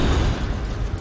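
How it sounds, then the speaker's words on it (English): A loud, rumbling explosion in Call of Duty: World at War's Nazi Zombies mode on Xbox 360, a dense roar that fills the whole moment and slowly tapers off. "Big explosion! Big success!"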